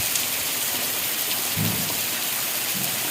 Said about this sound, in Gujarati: અત્યારે અમારે હજુ ચાલુ જ છે વરસાદ.